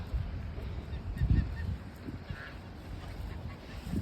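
Large ducks quack in a noisy group outdoors on a duck farm, scattered calls over a low rumble of background noise.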